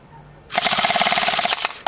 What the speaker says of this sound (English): these are just airsoft guns, just powered by a couple AA batteries or maybe several 9-volt batteries in our case, and use just little plastic pellets as ammo